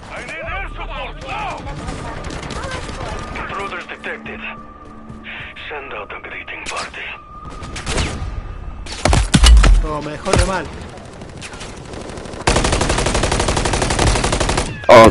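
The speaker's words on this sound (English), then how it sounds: "I'm just gonna throw the Casimirs and throw grenades and shoot." Rapid machine-gun fire and heavy bursts from guns and grenades in MW3 Zombies come in loud, clustered volleys, with a player talking over the chaos and radio-like chatter between bursts.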